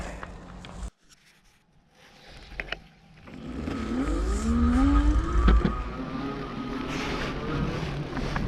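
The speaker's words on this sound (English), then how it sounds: "Comes a car up behind me, so I'll let him around." A car comes up behind an e-bike rider on a slippery winter road, its engine note rising and swelling from near silence to a steady close rumble.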